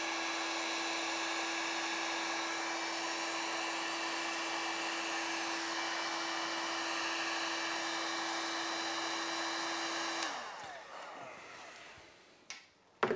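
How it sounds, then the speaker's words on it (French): A hair dryer blows steadily at close range on acrylic pouring paint with a constant whining hum for about ten seconds, then clicks off, leaving faint handling noises. "on va accentuer les cellules, la dilatation des cellules avec un coup de sèche-cheveux"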